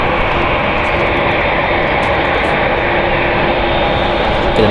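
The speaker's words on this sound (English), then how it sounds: "We're going to make a departure to Tokyo Narita. It's Boeing 787-9 Dreamliner," A two-year-old Boeing 787-9 Dreamliner departs San Francisco International for Tokyo Narita, its engines a dense, continuous roar that stays loud and even through a short stretch, with no talking.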